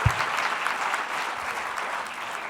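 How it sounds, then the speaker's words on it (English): An audience at an education talk gives a short round of applause for New Zealand teachers. The steady clapping is moderately close and fades slightly toward the end, with no voices over it. "Why don't we give those New Zealand teachers a round of applause"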